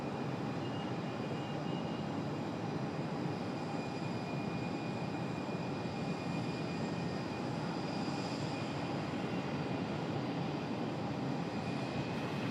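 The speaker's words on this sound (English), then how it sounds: "There is the FedEx 767" Jet engines of a FedEx Boeing 767 at Raleigh-Durham airport roar in a steady, broadband wash with a faint high whine on top. The sound is sustained and moderately distant, with no talk heard.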